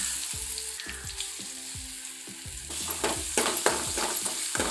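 Spice paste sizzles and fries in a hot pan for a mutton liver fry, with repeated scraping and stirring knocks from a spoon, loud and close.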